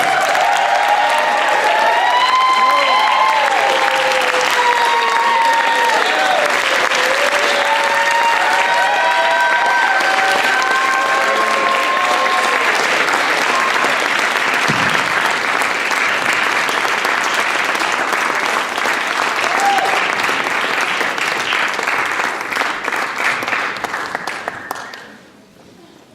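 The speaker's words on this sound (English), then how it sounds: "stand up, clap it up for Daniel and Dexter right now" A school talent showcase audience applauds and cheers for student performers, a dense, loud wash of clapping with shouts and whoops that holds steady for about twenty-five seconds before tapering off at the end.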